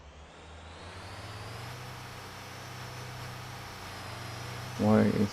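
A truck engine drones steadily in the video game Motor Town, a low, even hum that builds slightly, ending in a brief louder burst near the close.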